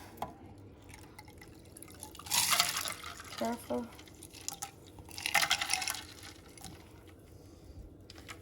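Ice water trickles and splashes into a pitcher in a couple of bursts, with a brief spoken word between them and light background noise.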